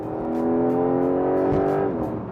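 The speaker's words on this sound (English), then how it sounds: "I put my foot down and it just takes off, no lag, nothing." Turbocharged engine of a Porsche 911 hybrid GTS pulls hard from low revs, a loud, steady interior drone with a rising tone and a brief gear-change dip.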